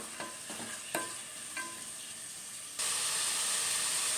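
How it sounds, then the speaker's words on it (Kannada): Tomato, onion, capsicum and peas are stirred in a hot tempering in a one-pot capsicum vangi bath; a few light scrapes come first, then a loud, steady sizzling hiss takes over near the end. "ಒಗ್ಗರಣೆಗೆ ಟೊಮೊಟೊ, ಈರುಳ್ಳಿ, ದಪ್ಪ ಮೆಣಸಿನಕಾಯಿ ಮತ್ತು ಬಟಾಣಿನ ಹಾಕಿದ್ದೀನಿ."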